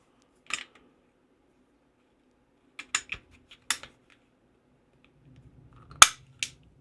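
S&W SD9 2.0 pistol being opened and taken apart, a handful of sharp, close metallic clicks and snaps separated by quiet pauses, with faint handling noise.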